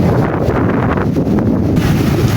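Big ocean waves roar in a constant, loud wash under heavy wind buffeting the microphone, on a windy shore at Bolobolo, Agusan del Norte, Philippines.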